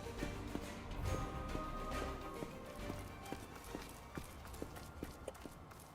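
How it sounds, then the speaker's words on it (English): Footsteps of an unseen stealthy enemy in the game Outward 2, quick soft thuds pattering in an uneven run over a low ambient drone. "I hear invisible footsteps."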